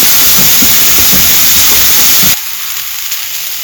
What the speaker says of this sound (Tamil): அடுத்தது கருவேப்பிலை. லைட்டாக வதங்கட்டும் வெங்காயம்.